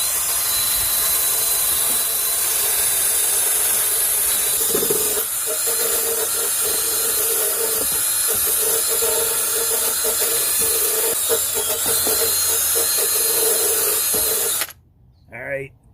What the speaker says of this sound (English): So this is a wire brush on a drill.